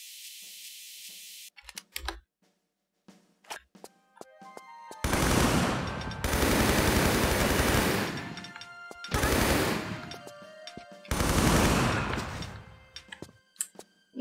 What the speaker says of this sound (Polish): Ja lubię MP5, bo ma taki beznadziejny strzał